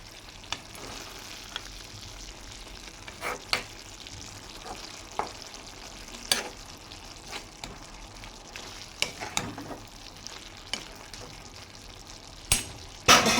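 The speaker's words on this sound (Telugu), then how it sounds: "ఇప్పుడు మనం ఇది మంచిగా కలిపేసుకుందాం" Ivy gourd and tomato curry is stirred in a pan over low to medium flame, with a steady soft sizzle broken by scattered scraping clicks of the spoon against the pan.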